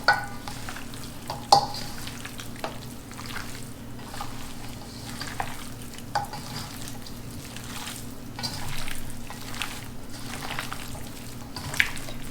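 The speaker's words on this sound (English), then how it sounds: "what you're gonna do is you're gonna mix it all up" Spareribs being stirred and mixed by hand with thick soy sauce and flour, a close, steady wet squelching and slapping with occasional louder clicks against the bowl, no talk.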